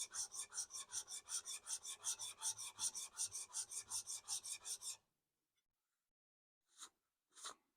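Hand sanding of wood with 180-grit sandpaper: about twenty quick, even rasping strokes in steady rhythm, close and clear, then silence broken by two brief separate rubs.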